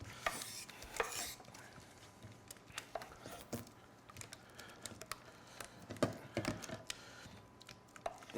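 Swedish egg salad with capers being mixed in a bowl: quiet, irregular clicks and scrapes of a utensil against the bowl, scattered sharper taps throughout, no talking.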